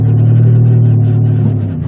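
A car engine revs hard on a smoking donut spare tire, giving a loud, close, steady low roar that holds and then eases slightly at the end.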